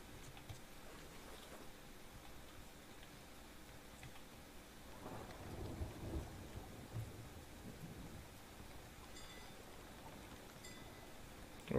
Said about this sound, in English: We're in the storm now.